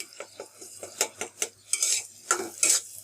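A metal spatula taps and scrapes through rohu fish roe in a pan with onions and spices, making a series of close, sharp clinks and scraping strokes in an uneven rhythm, with no one speaking.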